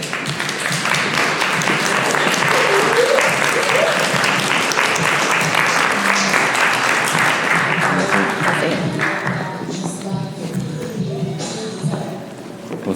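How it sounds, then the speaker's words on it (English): An audience applauds loudly as a guest enters for an interview, with dense clapping that holds strong for several seconds and then tapers to scattered claps and murmuring near the end. "And you guys just please clap and give Jalen two tall woods and a warm wel"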